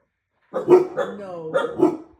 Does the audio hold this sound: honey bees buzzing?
no